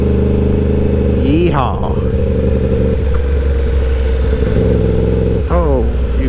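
Yamaha R1 sport motorcycle running underway with a loud close engine drone, rising revs around shifts, wind and road noise, and a rider talking and whooping over it.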